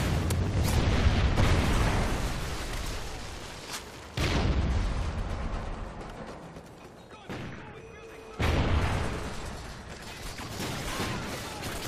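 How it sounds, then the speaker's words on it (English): Heavy explosions from a Trinity rocket strike in a video game rumble in several loud waves, each opening with a sudden blast and decaying into rolling crackling debris. "Trinity rocket inbound."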